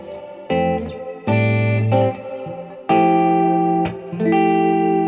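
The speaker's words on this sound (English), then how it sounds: "That brings us to the next one, the Walrus R1 stereo reverb." Guitar played through a Walrus R1 stereo reverb pedal: a few sustained chords and notes ring out loudly, each trailing into a long, lush reverb tail that overlaps the next.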